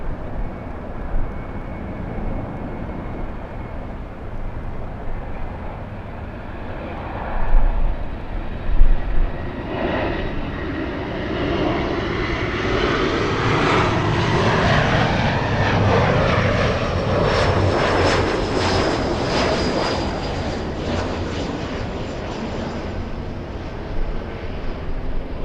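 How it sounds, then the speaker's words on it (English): A SkyWest Embraer E175 regional airliner arriving at LAX from Reno passes close overhead, its jet roar swelling into a loud rushing whine with a rising tone before easing slightly as it goes by. "Little E175 flying in from Reno, Nevada, SkyWest 3902."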